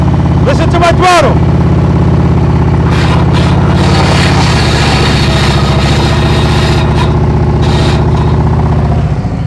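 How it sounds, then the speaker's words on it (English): A motorcycle engine, likely a Harley-Davidson, is heard during slow-speed riding practice in a confined course, a loud steady low rumble with throttle blips early on, and voices come and go over the engine. "Listen to my throttle."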